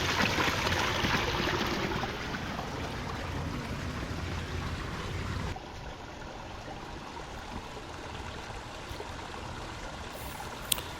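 Water rushes steadily in a newly built backyard creek with a small waterfall, a continuous close hiss and splash that drops slightly quieter partway through and then carries on evenly.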